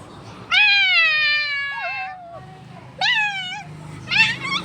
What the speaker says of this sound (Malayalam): മിക്കു പൂച്ച